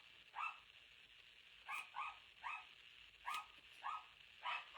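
Several dogs carrying on in short, evenly spaced barks and yips, about eight bursts in under five seconds, heard faintly at a distance against a quiet background.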